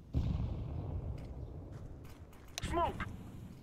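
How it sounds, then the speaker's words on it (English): A flashbang grenade thrown in the CS:GO video game lands as a loud burst near the start, followed by scattered game noises and a bright ringing, warbling tone later, with voices talking over the action. "Throwing a flashbang."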